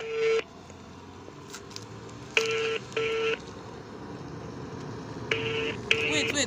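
A phone call is placed, sounding as several clear, loud dial beeps in short bursts spaced apart, over a quiet room with faint background noise.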